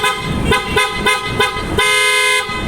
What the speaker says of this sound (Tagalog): Auto style horn yan.